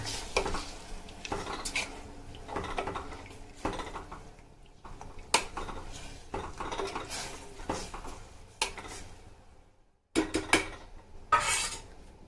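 A spoon stirs a thick sweet lemon pickle with salt and turmeric in a metal pot, with repeated irregular clinks and scrapes and short pauses between strokes.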